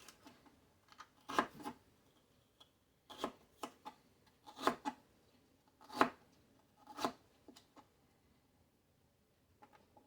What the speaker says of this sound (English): after I chop up all this rhubarb